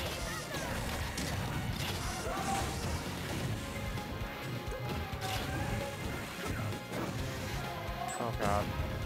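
Forward smash attacks from Lucas and Snake landing in a Super Smash Bros tournament match, heard as sharp crashing hits within continuous game sound and crowd noise, with commentators talking over it.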